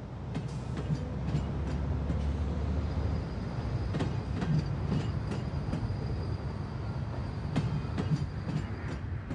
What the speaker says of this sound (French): Des dizaines de trains par jour partent ensuite vers les grands centres de distribution